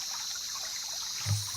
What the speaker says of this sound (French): Les indices sur la carte disent de traverser ce ruisseau.